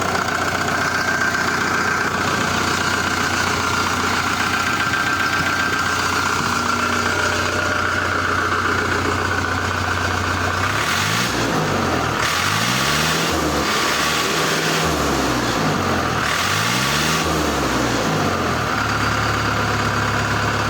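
A Chinese-built Scout TE 504 tractor's diesel engine idles steadily with a low, even rumble, joined midway by a wavering, pulsing drone that rises and falls in repeated sweeps.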